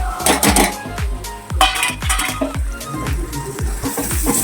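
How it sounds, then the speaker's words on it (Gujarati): Cashews, potatoes and tomatoes tipped into a pot for masala pulao, giving a busy series of close metallic clanks and knocks of utensils against the pot, with no talk. "નાખી દઈએ થોડા કાજુ અને બટેકા અને ટામેટા"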